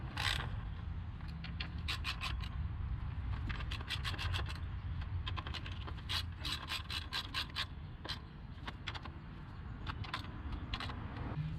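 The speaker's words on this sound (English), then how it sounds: "Take your ratchet and just hand snug all the coils down." A ratchet snugs down the ignition coil bolts on a Kia Rio, with rapid bursts of clicking pawl ratchets repeating close by over a low background hum, without talk.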